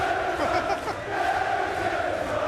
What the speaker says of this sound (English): Listen to this crowd, Wayne.